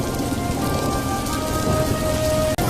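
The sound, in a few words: rain with thunder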